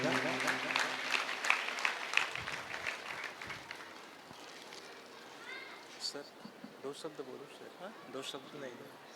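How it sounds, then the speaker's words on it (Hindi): Applause from the audience at a Ramayan recitation gathering of the Aaradhna Manas Mandali in Gullu, Raipur, honouring a guest. The clapping is fairly quiet and scattered, with voices talking over it at the start and brief louder bursts later. "जोरदार ताली के साथ सम्मान दीजिएगा"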